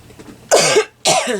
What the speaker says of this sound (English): Cough gets worse in the evening.